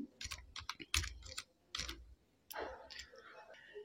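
Name being typed on a computer keyboard for an online PAN card correction form, heard as irregular bursts of clicky keystrokes with pauses, fairly close but quiet, mixed with low background noise.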